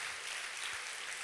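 A church congregation at a Sunday service claps together in thanks to God, a brief, steady wash of applause at moderate distance.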